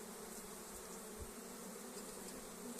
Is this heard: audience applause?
no